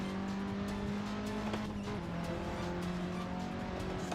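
A race car engine in a racing video game holds a steady high-revving drone with shifting pitch, accompanied by faint tire noise, loud and continuous throughout.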